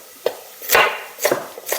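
A knife chops food on a chopping board in a kitchen: four sharp, close cuts spaced roughly half a second apart, each a crisp knock against the board with a brief scrape, and no talking.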